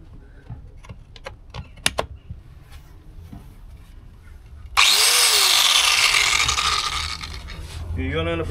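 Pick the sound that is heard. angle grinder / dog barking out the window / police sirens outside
angle grinder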